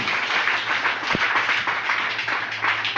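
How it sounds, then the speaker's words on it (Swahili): Congregation at a Swahili church sermon clapping for Jesus, a dense steady wash of many hands close by throughout, with a faint low hum underneath and one brief thump near the middle. "Epigia Yesu makofi mazuri."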